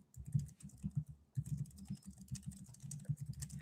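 Fingers tap out a chat message on a computer keyboard in rapid irregular bursts of clicks with a brief pause partway through, close and quiet, with no talking.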